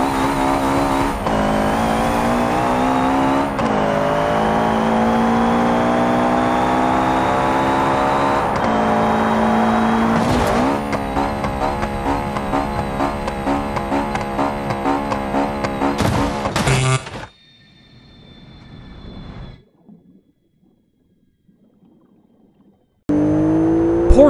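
Subaru Impreza engine in the driving simulator BeamNG Drive, a steady loud revving drone rising through gear changes for about seventeen seconds, then cutting out to near silence before a brief loud return.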